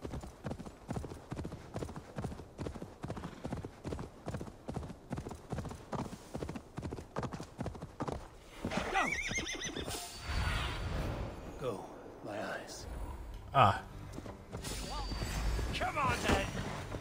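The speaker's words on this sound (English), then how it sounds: "I feel like I should probably get the horse." Horse galloping in Assassin's Creed Valhalla, a fast, steady clip-clop of hooves for several seconds, then slowing amid rustling game sounds and a brief neigh, with someone talking over it.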